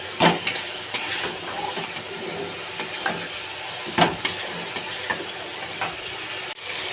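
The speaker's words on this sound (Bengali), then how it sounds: "এবার আমি কিন্তু ধনে পাতাটা দিয়ে দেব। একটু ভালো করে নেড়ে নেব।" A pan of chicken liver curry being stirred after coriander leaves go in, a steady soft sizzle with scattered scraping clicks of the spoon against the pan, close and fairly even, with no talking.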